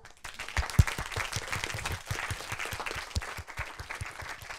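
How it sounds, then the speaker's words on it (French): An audience at a French talk on young women and digital technology applauds the speakers, a steady patter of many hands clapping in a room, moderately loud and continuous. "Je pense qu'on peut applaudir nos intervenants."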